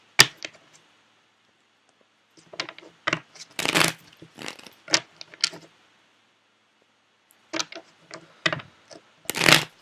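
Tarot cards being handled and shuffled to draw a clarifier card, close crisp flicks and riffles in irregular bursts separated by silent gaps.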